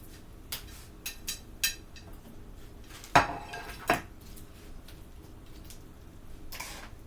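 Bowls and dishes clatter while chopped shrimp lo mein ingredients drain in a kitchen; a few sharp clinks early on, then two louder knocks of crockery, with faint handling noise between and no talk.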